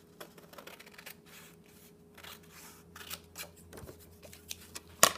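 Scissors snipping through paper for a one-sheet flip flop mini album, a series of quiet close crisp cuts at irregular intervals, ending with a sharper click.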